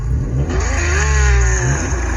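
Simulated race-car engine revving from the RevHeadz phone app, a loud continuous engine drone that climbs and falls in pitch through one rev, with no talk over it.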